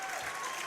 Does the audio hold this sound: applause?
yes